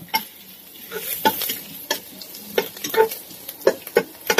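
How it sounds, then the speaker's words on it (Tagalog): Ginger pieces tossed into a hot pan for pork sisig, giving a light sizzle with repeated stirring scrapes and clinks of utensil on pan throughout, moderately close and without voices. "Ilagay na rin natin ang ating ginger guys, pampabango at pampatanggal ng lansang."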